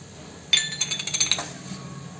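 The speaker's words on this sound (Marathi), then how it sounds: "आणि ही डाळ टाकते।" Dry chana dal rattles into a metal pressure cooker in a quick half-second pour, a bright patter of small hard grains that fades out.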